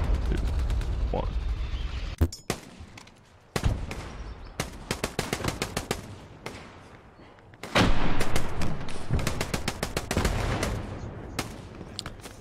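Incoming gunfire in the World War II shooter Hell Let Loose: loud bursts of rapid machine-gun fire and single sharp cracks, with a dense, sustained volley in the second half.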